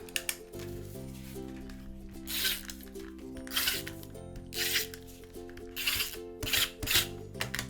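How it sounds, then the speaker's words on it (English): Glue tape is rolled onto a card in short scratchy bursts, several quick rubbing strokes heard close up over a quiet background hum. "Grab yourself some glue tape."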